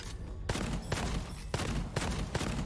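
Rapid bursts of gunfire from the starting default weapon, which has no elements, in the video game Gunfire Reborn, with several loud, evenly spaced volleys roughly every half second over a dense, continuous game background.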